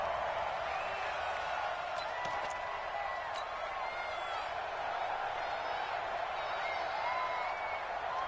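A stadium crowd in an American football video game keeps up a steady, dense roar through the whole stretch, with a few brief shouts and whistles poking out near the start over the constant wash of noise.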